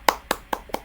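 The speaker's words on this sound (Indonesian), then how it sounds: "Tepuk tangan untuk Bu Linda yo" Four separate hand claps spaced evenly about a fifth of a second apart, sharp and close, with no other sound between them, for Bu Linda, a senior teacher, at a school gathering.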